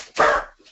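A dog barks once in an office, a single loud, close bark lasting under a second, with no talking around it.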